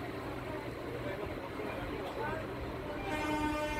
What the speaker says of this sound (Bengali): তারপর ট্রেনটা আবার ছেড়ে দিয়েছে, আর এখন গতি আছে খুব স্লো